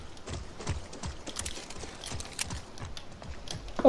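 Horse hooves clip-clop in the video game Far Cry 6, a quick, uneven run of hard knocking steps close by over a quiet background.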